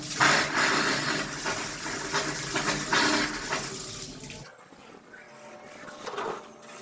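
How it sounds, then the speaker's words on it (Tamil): Water gushing from a household tap once the main valve is reopened after a salt blockage in the supply pipe is cleared, a loud steady rushing flow that cuts off abruptly midway, leaving fainter trickling and splashing. "இனி மெயின் வால்வை திறந்து விட்டுடலாம் அதே மாதிரி நல்லிலையும் எவ்வளோ தண்ணி வருது அப்படிங்கிறத பார்த்துடலாம்"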